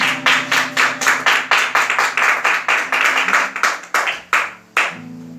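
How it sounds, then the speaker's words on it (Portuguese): Congregation clapping hands together in a church during a Sunday Bible school service, a loud, fairly rhythmic run of many claps that thins toward the end before a low tone lingers. "vamos aplaudir esse Deus maravilhoso"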